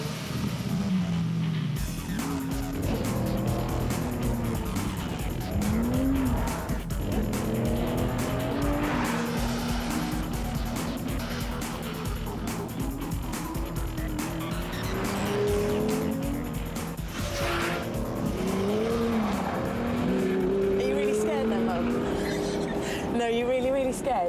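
A 200-mph supercar with 580 bhp, its engine rising and falling in pitch through repeated accelerations as tires squeal in bursts, close and loud, with people talking over it throughout.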